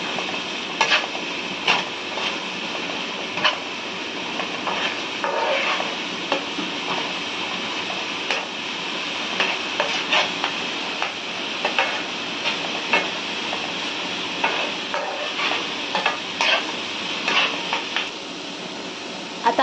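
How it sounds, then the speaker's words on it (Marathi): Tomato roasting in a pan for an egg fry, with a continuous sizzle broken by repeated scraping and stirring strokes of a utensil at an irregular pace. "आता आपला टोमॅटो भाजून झालाय पूर्णपणे"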